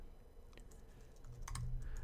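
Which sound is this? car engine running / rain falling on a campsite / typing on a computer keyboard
typing on a computer keyboard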